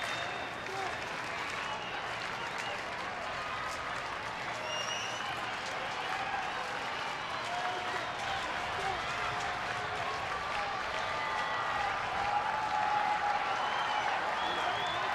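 Steady applause and crowd noise from about 31,000 fans at a Rangers baseball game against Minnesota in Texas, a continuous wash of clapping and cheering that swells slightly toward the end.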